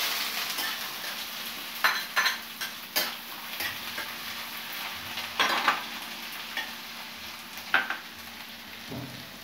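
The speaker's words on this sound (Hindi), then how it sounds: "अब इसमें हम बारीक कटा हुआ प्याज डालते हैं" Finely chopped onion lands in hot oil with browned cumin for a dry potato and cabbage dish, giving a steady sizzle broken by repeated scraping stirs and light clinks of a spoon against the pan.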